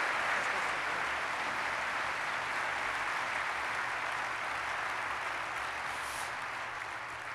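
Sustained applause from an audience at the Tour de France 2022 route presentation, a thick, even wash of many hands clapping throughout at a steady level, with no voices rising above it.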